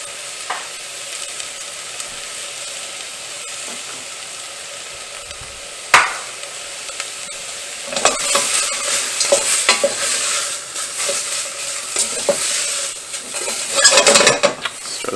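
Minced garlic sizzles in a hot soup pot for caldo verde, a steady close frying hiss broken by scraping stirs and light clinks of a utensil against the pot, growing busier in the second half.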